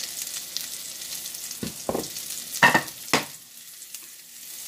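Beyond Burgers sizzle in butter in a pan, a steady crackling fry close by, broken by a few sharp scraping stirs and flips.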